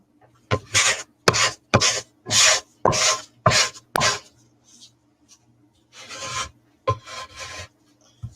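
A bench scraper rasps across a work surface in a quick run of short, loud, gritty strokes, about seven of them close together. A pause follows, then two more scrapes.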